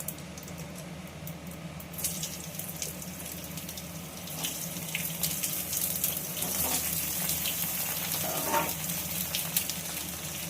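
Chopped vegetables hit hot oil tempered with panch phoron, the Bengali five-spice mix. A soft hiss builds after about two seconds and swells into a steadier, louder crackling sizzle from around four seconds on, with no talking.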